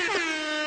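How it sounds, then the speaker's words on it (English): A single loud, brassy air horn blast, bright and sustained for under a second. "I'm going to give you these air horns now"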